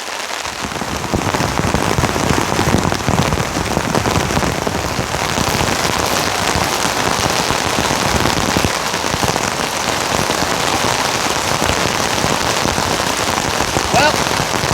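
Heavy rain pours down steadily and loudly at a canoe campsite, a dense continuous patter on surfaces that carries on without pause.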